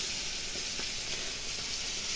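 Fish fries in a hot pan, giving a continuous bright sizzle with faint crackles, steady and close.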